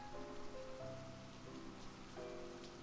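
Steady rain pours in the point-and-click adventure game Classic Adventures: The Great Gatsby, a quiet continuous hiss of drops with soft tonal game music layered underneath and no talking.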